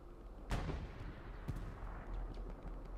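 Tank and anti-tank gun fire in Hell Let Loose around Carentan: two distant heavy cannon shots, a sharp blast then a second thud a second later, each trailing a low rolling echo over a faint battlefield rumble.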